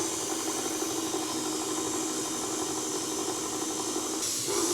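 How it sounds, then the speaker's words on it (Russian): An electric stand mixer kneading dough for Armenian katnauts Easter pastry, a steady continuous hiss and motor whir running without pause at close range, with a slight shift near the end. "И включаем тесто-месо."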